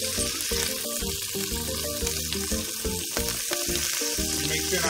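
Garlic and onions frying in a pan hiss in a dense, loud sizzle, with a steady warm tonal layer running underneath throughout; no one speaks.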